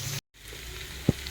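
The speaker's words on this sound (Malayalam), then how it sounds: "ഈ സവാള നന്നായിട്ടൊന്ന് മൂത്ത് കളർ മാറി വരട്ടെ" Finely chopped onions fry in a pan for a mushroom roast, a soft continuous sizzle broken by a short silence and one dull knock of a spoon.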